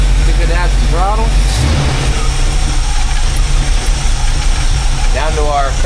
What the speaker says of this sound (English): Down to our curb idle